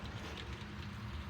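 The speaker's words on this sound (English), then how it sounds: "it's cool and raining outside" Steady rain falls outside in the Seattle area, a dense, even hiss of drops with a low rumble underneath, continuous and moderately close with no voices.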